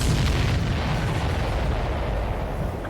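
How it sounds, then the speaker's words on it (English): A loud explosion in the aerial combat video game Ace Combat 7 fills the whole stretch as a dense, rolling boom that barely fades over three seconds. "Did you see that explosion?"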